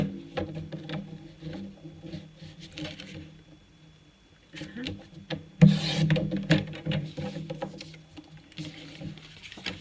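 Card paper is cut for a cascade album card, with scraping, rasping strokes close up and intermittent rubbing and tapping, some strokes louder than others.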